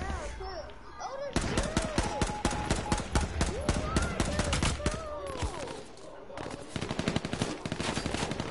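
Rapid bursts of automatic gunfire and single shots from the online survival game H1Z1, loud and dense, cracking repeatedly over several seconds with a short lull midway, while a voice talks underneath.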